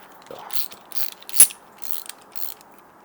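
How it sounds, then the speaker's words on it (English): Wrench work loosening tight 17mm lock nuts on T-Rex Racing crash bars fitted to a Honda CRF300L motorcycle: a few short, close metallic clicks and ratcheting scrapes, with one sharp loud clack midway. "they have it on there pretty tight, so you're going to need to use these wrenches to kind of take them apart"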